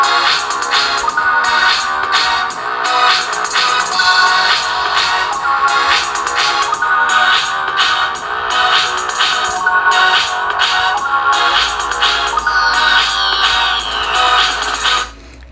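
Ringtone melody blasting at full volume from the loudspeaker of a Mi 11X smartphone, dense and continuous for about fifteen seconds before cutting off abruptly at the end.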